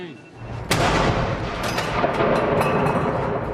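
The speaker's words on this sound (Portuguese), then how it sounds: "Uma salva de 21 tiros de canhão" A single sharp cannon blast from a 21-gun salute for King Charles III's arrival booms close by, then a dense, rumbling roar of noise carries on without pause.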